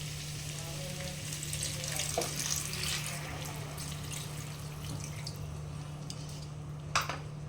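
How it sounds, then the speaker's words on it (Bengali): Water from a bowl poured into a hot pan of potato and pointed gourd curry, a steady close hiss and splash with sizzling underneath and a brief splash near the end. "এখানে আমি 1 বাটির মতো জল দিচ্ছি।"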